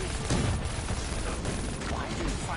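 Rapid minigun fire rattles steadily through a PS4 shooter game, dense and continuous at close range, with voices talking over it.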